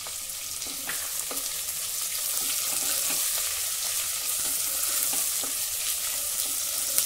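Vertically sliced large onion with pieces of green chili sautéing in hot oil, a steady close sizzle with occasional light stirring scrapes, no talking.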